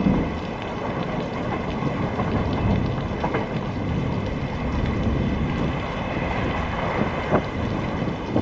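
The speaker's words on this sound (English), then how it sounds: "It had started raining heavily since noon." Heavy rain pours steadily around a passenger train, with rumbles of thunder rolling through; a dense, continuous downpour fills the scene with no voices.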